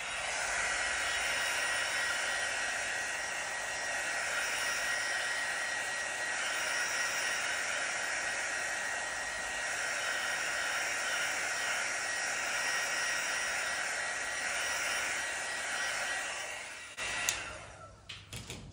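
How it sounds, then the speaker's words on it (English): A heat embossing tool blows hot air over wet fluid pour paint, a steady close whooshing hum holding for about seventeen seconds before cutting off with a few faint clicks and rustles. "I'm just going to use my heat embossing tool again."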